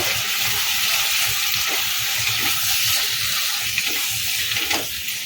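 Bottle gourd stirred into cooked moong dal in a pan, giving a constant loud hiss of frying with soft, irregular stirring knocks underneath and no voices.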